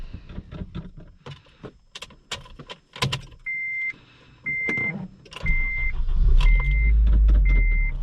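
An Acura RSX Type S with a K20Z1 engine comes to life after a series of clicks and interior beeps, the starter catching and settling into a loud, steady idle.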